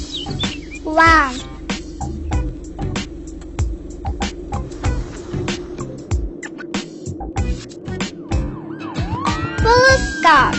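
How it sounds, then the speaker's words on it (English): Police car siren wailing in rising and falling sweeps over busy toy-like clatter and clicks, loud and close, with a voice chattering in between. "Police car."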